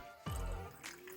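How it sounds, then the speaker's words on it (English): Amaryllis plants dropped into a container of sea salt water solution give one soft, close splash followed by a brief trickle and drip, heard alone in a quiet room. "I will chuck them in the water"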